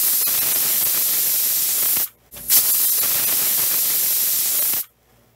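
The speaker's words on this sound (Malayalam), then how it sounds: "പ്രഷർ കുക്കറിൻ്റെ പ്രഷർ പോട്ടെ." Pressure cooker hissing loudly as steam pressure is released while lentils cook for dal, a steady broadband rush that cuts out briefly, bursts back, then stops near the end.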